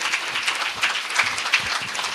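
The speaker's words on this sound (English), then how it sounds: "one more round of applause for the panel up here." An audience claps for a panel at a talk event, a steady patter of many hands at moderate distance with no voices over it.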